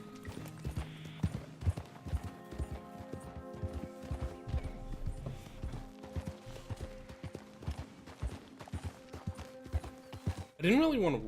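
Wild horses gallop in Red Dead Redemption II, their rapid hoofbeats clopping steadily under sustained game music, with a sharp whinny bursting out at the very end.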